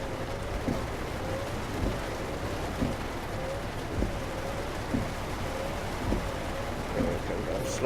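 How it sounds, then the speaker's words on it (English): Steady rain hisses throughout a truck-driving video game with soft periodic thumps, a low thunder rumble underneath, and a faint rhythmic squeak repeating in the background. "And there's thunder and lightning too."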